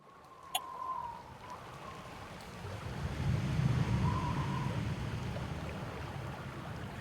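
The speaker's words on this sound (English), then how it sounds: "every couple minutes it does a big boom, like surf up against water or surf up" Water surf booms against rocks inside a cave, a low rumbling swell that rises into one deep, sustained boom over a steady wash of running water, with no voices.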